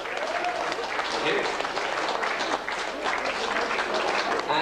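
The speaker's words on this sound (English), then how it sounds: "Ladies and gentlemen, round of applause," An audience at a golden jubilee Mass applauds, a dense, steady clapping from a crowd close by that fills the whole stretch, with a voice briefly speaking over it.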